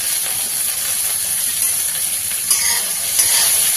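Bitter gourd sautés with a little salt in a pan, a steady hot sizzling hiss running throughout, with brief louder bursts of frying near the end as the pieces are stirred.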